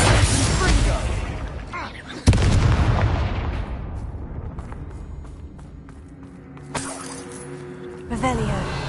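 In the Hogwarts Legacy video game, a Bombarda spell detonates with a loud booming blast that fades into a rumbling decay, followed by smaller bursts and pops.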